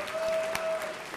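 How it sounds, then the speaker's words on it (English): Audience applause at an event for Reverend Sharpton, a brief burst of crowd clapping with a faint steady tone underneath. "let's give Reverend Sharpton a round of applause for what he has built"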